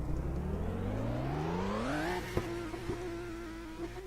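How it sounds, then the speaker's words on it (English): Formula 2 race cars doing donuts at the Le Mans round, a loud steady engine drone rising in pitch as it revs up, then holding high with a couple of sharp bangs or pops, no talk. "Well, they're doing donuts."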